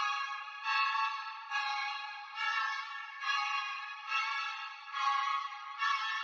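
Synth chords from the Flex plugin in FL Studio, a bright filtered chord pad repeating in regular pulses about every second, moderately loud and alone with no voices or drums.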